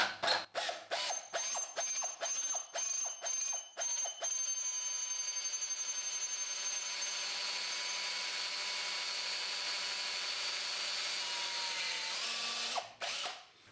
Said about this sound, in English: I'm going to apply some cutting paste to that, and then I'm going to drill the hole